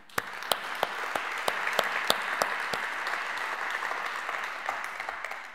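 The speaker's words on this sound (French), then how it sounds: "je vous demanderai de bien vouloir les applaudir" Audience claps throughout a plenary opening speech, a steady wash of applause from many hands with sharper individual claps standing out, fairly close and sustained for several seconds.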